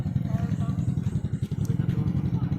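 A new motorcycle without a plate number runs on a mountain road near Calamba Farm, Maragusan, Davao de Oro, its engine chugging in a rough, pulsing rhythm close by, with people talking faintly over it.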